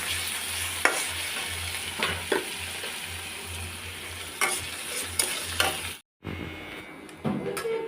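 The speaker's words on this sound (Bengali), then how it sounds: "এখন এই আলু ও মিষ্টি কুমড়ার কুচিটা ভালো করে ভেজে নেব" Chopped potato and sweet pumpkin frying in a pan over low to medium heat: a steady close sizzle broken by a series of sharp spatula scrapes, with a brief drop to silence before the frying resumes.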